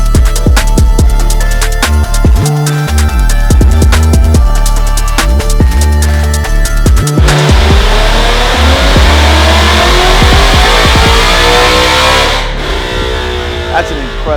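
A 2017 Roush Mustang with a VMP Gen3R supercharger on a 79mm upper pulley runs hard on a chassis dyno, its engine climbing loud and close through the gears before winding down.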